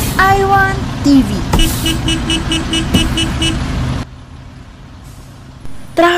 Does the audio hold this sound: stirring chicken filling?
no